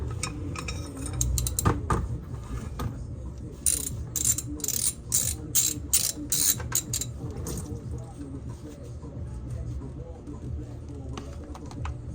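A ratchet with a 14mm socket clicks in quick bursts, loosening the transmission drain plug on a 2019 Subaru Forester CVT; the clicking is close and moderately loud over faint background noise.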